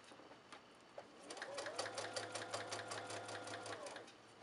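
A sewing machine stitches a hatband onto the crown of a surgical cap, running steadily for about two seconds in a close, even whir of rapid needle strokes, with brief quiet handling before and after.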